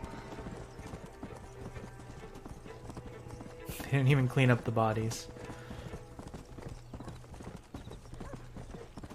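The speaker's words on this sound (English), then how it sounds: "your horse also has infinite stamina, so you can run as fast as you want" Steady clip-clop of horse hooves at a run in the video game Red Dead Redemption, under a quiet ambient bed, with someone speaking briefly over it.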